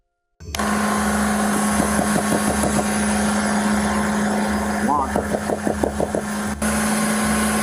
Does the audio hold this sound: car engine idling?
yes